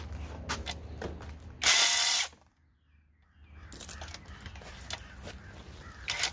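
A ratchet with an 8 mm socket works on the end cap bolts of a generator, giving one short, bright burst of ratcheting. Quieter handling and shop noise come before and after it.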